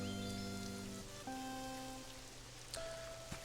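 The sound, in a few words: rain in video game Pokopia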